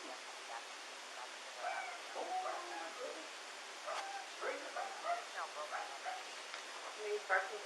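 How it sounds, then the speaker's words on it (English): A dog barks and yips in short bursts through a home, heard under and between several people talking, some barks near and others a little farther off, over a constant background hiss. "He's barking because he wants you to pet him."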